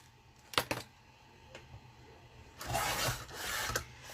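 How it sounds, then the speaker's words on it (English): Trimming a slight overhang off a paper page for a Valentine's pop-up minibook: a few sharp clicks and taps, then a longer, rough rasping cut across the sheet, close and fairly quiet. "I'm just going to trim that off."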